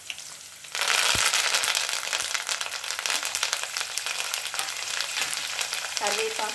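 Curry leaves hit hot oil in a pan for a Telangana-style moong dal tomato curry, bursting into a loud, crackling sizzle that stays busy and spattering with sharp pops throughout.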